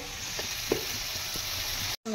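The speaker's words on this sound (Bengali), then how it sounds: "আমার আলু ভাজা হয়ে গেল, আবার আলুগুলো একটু খোড়া ভাজা চাই" Potatoes fry in hot oil with a loud, dense and steady close sizzle, broken by a few faint knocks before it cuts off abruptly near the end.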